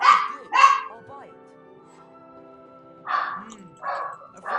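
A dog in the Harry Potter 3 PC video game barks in a few sharp, loud bursts at the start and again near the end, with quieter whimpering and yipping between them.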